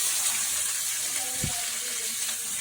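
Tadka tempering for chutney sizzles steadily in a hot pan, a dense, even crackling hiss that runs throughout at close range.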